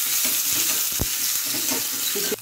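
Curry leaves crackle and sizzle in hot oil with dal, chana dal and a little coriander, a tempering for South Indian curd rice; steady loud frying hiss close up, with a few sharp pops, no voices.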